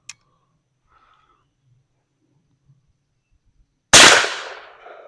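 A single .410 shotgun blast from a 2.5-inch shell loaded with four .34-caliber buckshot pellets and a stretch wad, one sharp loud report that rings out and decays over about a second after near silence.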